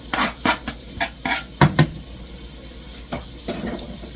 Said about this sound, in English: I'm just gonna throw these onions in there